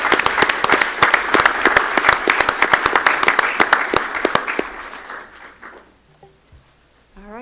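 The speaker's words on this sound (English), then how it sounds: "Let's give everybody another round of applause." People at a school board of education meeting give a loud round of applause with dense, close clapping that fades out over a few seconds, followed by a brief, faint noise.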